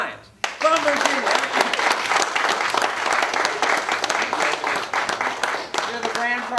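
An audience applauds a prize winner of a Jeep giveaway, dense sustained clapping that starts abruptly and fills the room, with voices speaking over it near the start and end.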